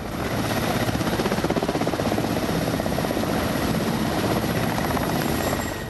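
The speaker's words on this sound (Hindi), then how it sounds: "MI-17 रूस का यह मिलिट्री हेलीकॉप्टर" A Russian Mi-17 twin-engine multipurpose military helicopter flies overhead, its rotor beating in a steady rapid thump under a loud broadband engine roar that stays constant throughout.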